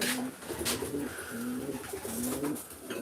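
Racing pigeons coo steadily inside their home loft on a race day, a dense chorus of soft, repeated low coos layered close together over a continuous rustling background, with no speech.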